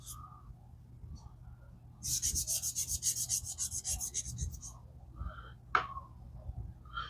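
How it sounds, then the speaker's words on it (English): Hand sanding of a tobacco pipe stem gives a rhythmic rasping scrub of quick back-and-forth strokes, close and fairly loud for several seconds, then a brief sharp scrape, over a low background hum. "Go through my three different steps of sanding."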